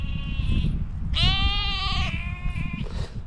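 Lambs on a farm bleating, several clear wavering calls close by, one long loud bleat in the middle over a constant low rumble of background noise.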